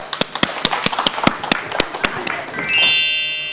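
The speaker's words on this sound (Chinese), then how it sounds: "好的，我们掌声有请" Scattered hand claps from a studio audience welcoming guests onto the stage at a televised health talk, a sparse run of sharp individual claps followed by a brief bright musical chime.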